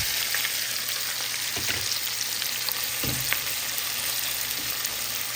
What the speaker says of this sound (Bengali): এখানে মাছটা হয়ে যাচ্ছে, পাশাপাশি আমি এই যে পেঁয়াজ কাঁচামরিচগুলো দিয়ে দিচ্ছি